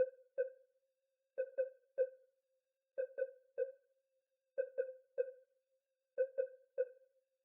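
A synth patch from the Hive preset Key Sonar, run through pitch shifter, flanger, chorus and EQ, plays short pinging sonar-like blips in repeating groups of two or three, quiet and isolated with silence between groups.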